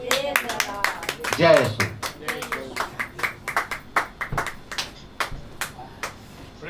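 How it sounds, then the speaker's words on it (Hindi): A church congregation claps in a steady, even rhythm during worship, the beats distinct but fairly soft, with a brief spoken exclamation near the start. "तालियां की आवाज बहुत धीरे आ रही है"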